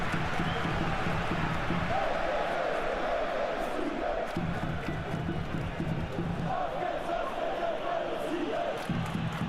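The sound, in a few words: stadium crowd cheering in video game PES 2021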